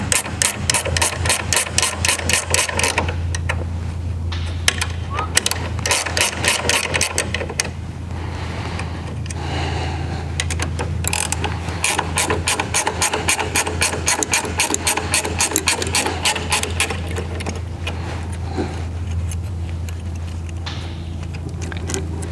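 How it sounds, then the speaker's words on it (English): Bolts holding a jack screw to a helicycle clutch arm are turned out with a 7/16 wrench, producing rapid close rattling clicks that run almost continuously over a steady low hum. "remove these two bolts that hold the jack screw to the clutch arm. And we do that with our 7/16 wrench."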